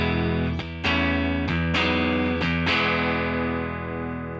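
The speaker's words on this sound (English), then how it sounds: "So here we've just got a Deluxe Reverb, classic Fender sound." Electric guitar through a Fender Deluxe Reverb amp model on a Fender Tone Master Pro, warm clean tone, several strummed chords ringing out with a slight shimmer and natural decay, with no voices.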